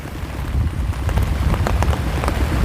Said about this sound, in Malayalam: മഴ ആയതുകൊണ്ട്